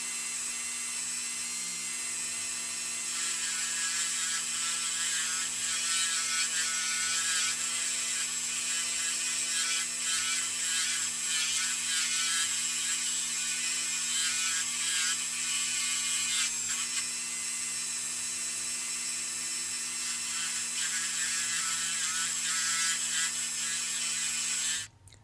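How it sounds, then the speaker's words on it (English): A small rotary burr whines steadily and shrilly for about twenty-five seconds while cleaning up a freshly drilled post on a Hot Wheels Redline Paddy Wagon die-cast car, then cuts off abruptly at the very end. "I'm going to get a little burr, and I'm going to just clean up this post now that it's drilled"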